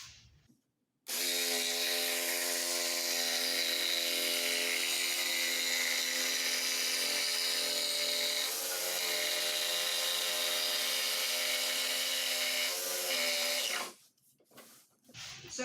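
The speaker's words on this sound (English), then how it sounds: "when you're cutting with the jigsaw, don't make big adjustments" Jigsaw cutting a piece for a giant butterfly, a loud, close, steady motor whine that runs unbroken for about thirteen seconds, then stops abruptly.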